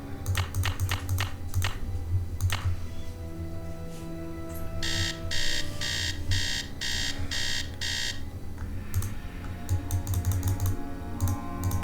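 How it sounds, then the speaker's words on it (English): Alarm clock ringing in the Nancy Drew: Message in a Haunted Mansion video game, a loud pulsing electronic beep repeating steadily for a few seconds amid game music and rapid clicking. "set an alarm for 3 p.m."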